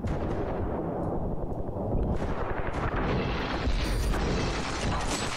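Railgun fire in the Ravenfield battle game, with heavy booming discharges over constant roaring battle noise, dense and loud throughout.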